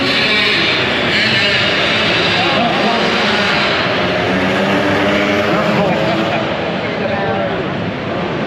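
A Honda twin-cylinder 250 production race motorcycle accelerates hard past the listener at a motorcycle show, a loud, dense engine roar that fills the whole stretch and fades slightly at the close.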